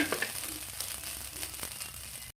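Rice fried with egg, salt and garlic over a firewood fire, a steady close sizzle with scraping of the spatula for a couple of seconds.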